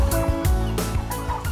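Fattening turkeys in a barn gobble and cluck in a dense, continuous flock chorus, with rhythmic low calls repeating steadily and no talking.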